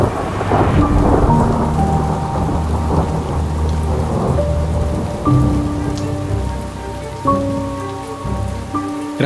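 Steady rain patters through a forest in Taiwan's Walisan area during a thunderstorm, with deep rolling thunder rumbling beneath the constant downpour and no voices.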